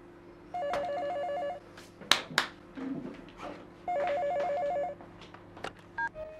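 A telephone rings in two repeated electronic trill bursts, with some clattering and faint background noise between the rings.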